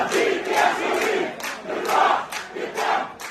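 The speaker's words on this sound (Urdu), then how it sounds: "سینکڑوں فلسطینیوں نے اس کی نماز جنازہ میں شرکت کی، اس کے ساتھ اظہار یکجہتی کا مظاہرہ کیا اور اسرائیل مخالف نعرے بھی لگائے" Hundreds of Palestinian mourners at a journalist's funeral chant anti-Israel slogans in loud, rhythmic waves, the massed voices rising and falling in repeated phrases.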